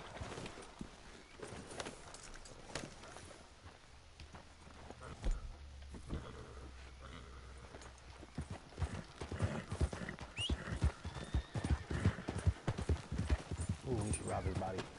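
A horse's hooves clip-clop in a Wild West video game, a faint uneven patter at first that grows into a busy rhythmic trot, with a neigh and a person speaking over it.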